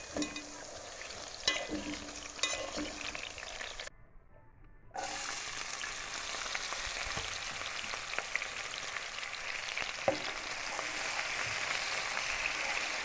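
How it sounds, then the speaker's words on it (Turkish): Köfte meatballs sizzle steadily in hot oil in a home kitchen, a dense continuous frying hiss with a brief drop in the middle, close and fairly loud with no talking. "Ben önce köfteyi böyle kızartıyorum."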